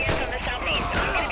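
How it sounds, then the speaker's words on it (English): Gunfire from GTA 5 crackles in a dense, loud volley of rapid shots during a police shootout. The burst is short and continuous, with game sounds and a voice mixed in. "Oh, I'm being shot at."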